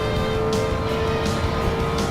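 A McLaren SLR racing in a video game, its engine holding a loud, continuous drone with steady harmonic tones and faint periodic whooshes, no talking over it.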